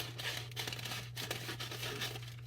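A sheet of paper is cut in half for pressing dried flowers, producing quiet, close crisp snips and crinkling rustles in short irregular bursts.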